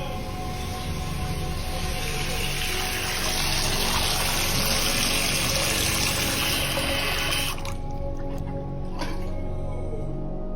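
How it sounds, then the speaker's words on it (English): Steady, loud rush of water running from a tap at full flow pours continuously, then the flow cuts off abruptly near the end, leaving quieter dripping. "in this clip, we hear the water running at its highest level."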